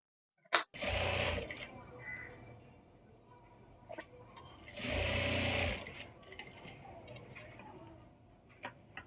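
A sewing machine stitches a school uniform in two bursts of steady whirring, each lasting about two seconds, with soft handling clicks in between and a quiet room behind.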